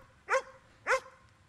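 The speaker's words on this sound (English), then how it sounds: "week of being home with 3-month-old Alrick, he could bark 3 different ways on command" A 3-month-old puppy barking on command, two short, sharp, close barks spaced about half a second apart against a quiet background.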